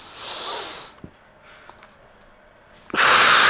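Two loud, breathy sniffs through the nose during a Pilates mat class, one at the start and one near the end, with a quiet room and faint small sounds between.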